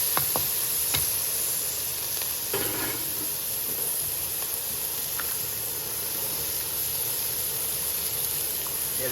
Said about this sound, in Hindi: अब इसमें टमाटर और मिर्चें डाल दें। इसको अच्छी तरह मिक्स कर लें।